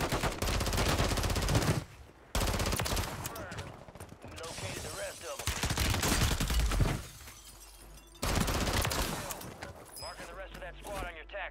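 SMG gunfire in Warzone 3: loud bursts of rapid shots come in several clusters separated by brief quiet gaps, with clattering impacts and mechanical rattles, and a voice talks over the action.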